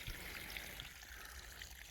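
Water trickles steadily into a small garden stream beside pepper and tomato seedlings, a soft continuous wash heard alone and fairly faint throughout.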